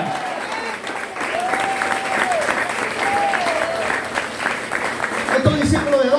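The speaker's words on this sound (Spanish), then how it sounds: "pero yo aplaudiera." Congregation applauding during a church sermon, a steady wash of clapping that carries on for several seconds with faint tonal sounds threaded through it, then a louder burst near the end.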